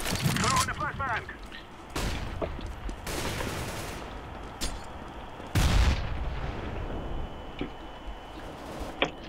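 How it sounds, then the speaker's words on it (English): In Counter-Strike: Global Offensive, a flashbang grenade goes off amid several loud bursts of gunfire and blasts, with players talking over the action. "Throw in the flashbang."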